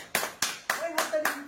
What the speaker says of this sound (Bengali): হ্যাঁ, হাততালি দাও, হাততালি দাও